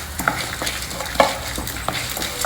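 Urad dal and other dals lightly frying and roasting in a pan for a South Indian dish, giving a steady soft sizzle broken by several sharp stirring scrapes and clicks, close and alone.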